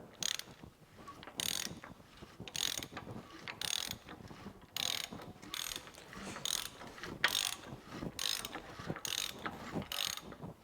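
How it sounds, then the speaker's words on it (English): Rebuilt BMW M30 inline-six engine turned over by hand, giving a regular series of about eleven ratcheting clicks with faint mechanical rustle between them, close and fairly quiet. "let's give it a couple test cranks, see if we hear anything wrong or something bad."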